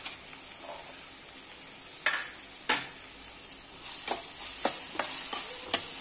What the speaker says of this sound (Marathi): हा सुद्धा आपल्याला गोल्डन ब्राऊन होईपर्यंत परतून घ्यायचा आहे